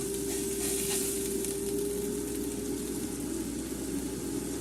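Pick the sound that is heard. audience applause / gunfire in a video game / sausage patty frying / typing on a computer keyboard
sausage patty frying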